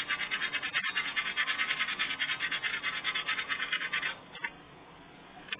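Sandpaper held in one hand rubs back and forth on a piece being flattened, a rhythmic scratchy rasp of even strokes for about four seconds, then fading to a few lighter scuffs; no voices.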